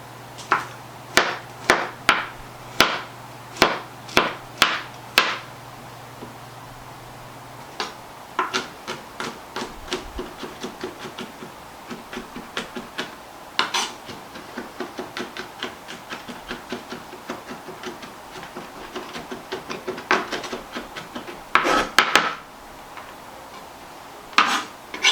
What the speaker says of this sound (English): I'm just going to do a rough chop on these.